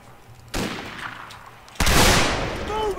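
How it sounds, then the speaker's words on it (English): Two loud musket volleys in Mount and Blade Warband, a sharp crack followed by a bigger, longer-ringing blast with a decaying echo, over a low background din. "Keep your fire up, take them out."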